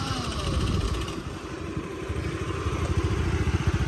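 A Honda Dio scooter engine runs steadily nearby, a rapid putt-putting idle with a slight rattle, continuous and fairly loud.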